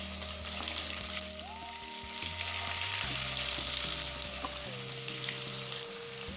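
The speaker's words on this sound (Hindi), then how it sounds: "सोरिष जीरा जो फुटी आसब आम कंचा लंका पकेदेबा और पियाज पकेदेबा।" Mustard seeds and cumin splutter in hot oil for a poha upma, a steady close hiss of frying with scattered small pops running throughout.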